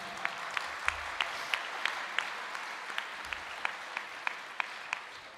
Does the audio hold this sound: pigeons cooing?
no